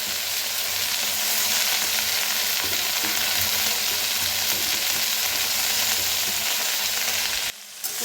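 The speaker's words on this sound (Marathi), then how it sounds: "आता मेथीला जरा मिक्स करूया।" Fenugreek greens (methi) being stirred in a hot pan, a steady close sizzle and frying hiss with soft scraping, cutting off briefly near the end.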